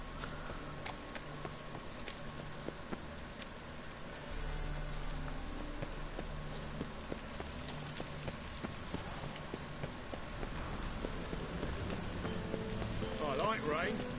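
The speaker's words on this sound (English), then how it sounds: "I like rain." Steady rain falls in the Witcher 3 video game, a constant patter of drops on surfaces with occasional horse hooves, while a player talks over it throughout.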